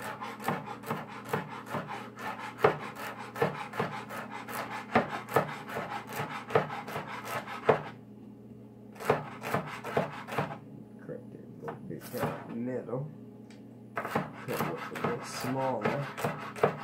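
Celery leaves and stalk chopped on a wooden board, a steady rapid rhythm of close knife strikes for several seconds, then a pause and scattered cuts with brief talk in the background.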